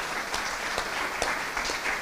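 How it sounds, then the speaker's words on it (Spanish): Applause from a conference audience greeting a speaker at a sustainable food systems forum, a steady dense patter of clapping with a few louder claps standing out, heard alone without talk. "Un aplauso, por favor, para Ducler."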